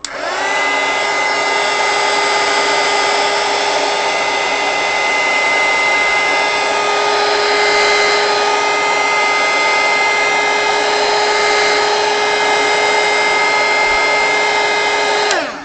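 A heat gun blows hot air onto crayon artwork coated in baby oil, a loud steady whirring drone with a strong motor whine that holds constant and alone for the whole stretch before cutting off at the end.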